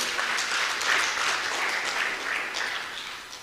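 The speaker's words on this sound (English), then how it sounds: "A round of applause for Professor Kimurto." A conference audience claps for a professor who has just finished speaking, a dense, even wash of applause that stays steady and fades slightly toward the end, with no voices rising above it.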